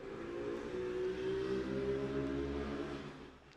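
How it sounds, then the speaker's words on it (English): A motorbike passes along a street outside a house, its engine note rising and holding as a hum, then fading away over a few seconds, muffled and at a moderate distance. "I think you guys could hear the motorbike going down the street"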